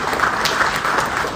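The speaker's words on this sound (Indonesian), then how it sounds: "Tepuk tangan." A crowd at a corporate event in Indonesia applauds in a dense, even wash of clapping, loud and close, over a short stretch.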